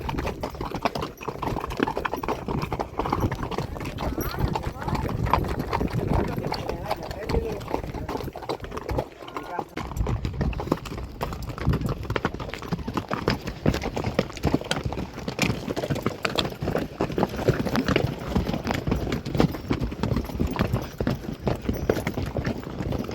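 Horse hooves clip-clopping steadily on a forest trail during a half-day spring ride in Ben Shemen forest, a continuous close rhythm of footfalls with riders talking throughout.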